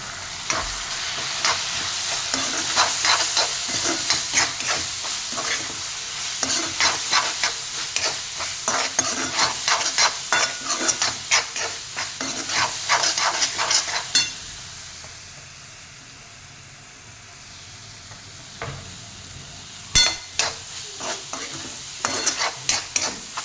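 Onion-free sauté in a pan with salt and asafoetida, loud sizzling broken by frequent scraping stirs of a spatula, easing to a softer hiss for a stretch before the stirring clatters resume.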